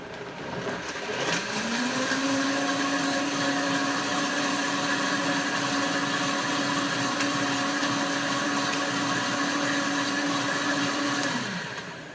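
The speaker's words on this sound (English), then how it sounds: "Excuse me while I blend." A blender making a green smoothie whirs up to speed and runs at a steady, loud pitch for about ten seconds before winding down.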